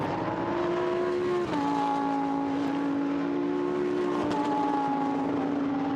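Lamborghini Super Trofeo race car engine at Silverstone, a sustained high-revving whine that shifts pitch with a gear change and climbs again, heard steadily at moderate distance.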